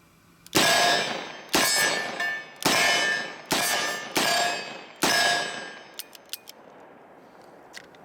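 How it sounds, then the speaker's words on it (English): A Smith & Wesson 686 Plus .357 Magnum revolver with a 3-inch barrel fires five sharp, loud shots of Sig Sauer full metal jacket ammunition in quick succession, each followed by ringing decay, then a few light metallic clicks. "We are shooting Sig Sauer 357 Magnums,"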